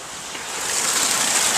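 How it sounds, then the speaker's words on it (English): Heavy rain pouring down in Mexico, a dense steady hiss of downpour that builds slightly in loudness, close and alone with no voices. "it's pouring down rain"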